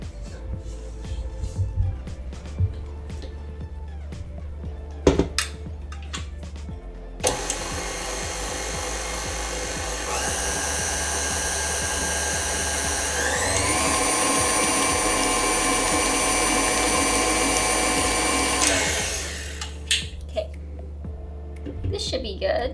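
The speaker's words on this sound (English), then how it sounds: "So I will mix it for a few seconds, and then I will scrape down the paddle and scrape down the sides of the bowl." A stand mixer with a paddle beats vegan vanilla cupcake batter, a steady loud motor whir running for about ten seconds and rising in pitch partway through, with scraping and handling noises before and after.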